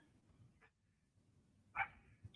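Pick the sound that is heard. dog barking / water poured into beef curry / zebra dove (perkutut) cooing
dog barking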